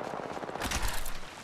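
Gunfire in a video game: a short burst of close, loud gunshots in the middle, cracking over a rumbling background of game noise.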